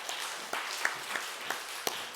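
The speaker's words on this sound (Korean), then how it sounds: "하나님께 영광의 박수 돌려드리겠습니다" A church congregation applauds in praise during a Sunday service, faint, sparse claps landing at irregular intervals against a quiet background.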